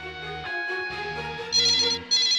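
A telephone rings for an incoming call on a radio call-in show, giving a bright electronic ringtone with repeating tonal bursts, close and clear with no talking over it.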